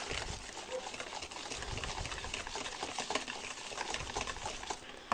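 A spoon stirs melted margarine into a dough mixture in a bowl, giving soft, continuous wet scraping and sloshing at close range with no talking over it.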